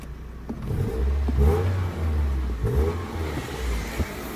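A BMW E30 drift car engine runs steadily in gear, with a suspected diff, drive shaft or axle fault. It gives a continuous close, low rumble with slight swells and no talking.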